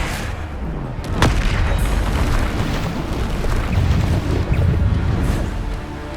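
Bombarda spell blasts in Hogwarts Legacy combat, heavy booming explosions with a sharp hit early on, then rumbling, crackling bursts that continue loud throughout.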